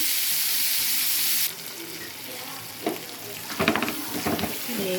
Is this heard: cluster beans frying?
yes